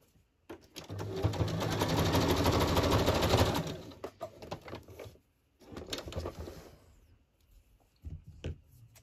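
A sewing machine runs a zigzag stitch across a painted mixed media paper tag, one loud steady run of rapid needle clatter for a few seconds, then shorter stop-start bursts, close by.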